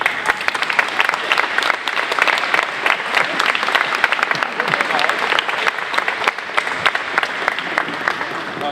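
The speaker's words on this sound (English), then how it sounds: "So I think the college people might want to give a round of applause to all of you" A crowd of college participants claps in sustained, loud applause after a mass casualty training exercise, dense and continuous with sharp individual claps standing out.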